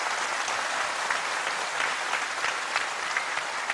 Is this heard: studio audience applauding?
yes